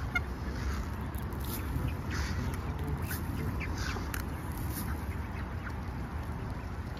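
Ducks and a duckling quack repeatedly in short, scattered bursts over a steady noisy background, with no talking.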